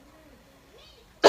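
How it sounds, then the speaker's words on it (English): One short, sharp cough bursts out near the end during a sewing session, close and loud after near silence. "Sorry for the cough."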